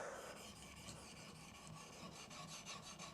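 Close, quiet rhythmic rasping of a chisel blade rubbed back and forth on a sharpening stone, strokes repeating steadily.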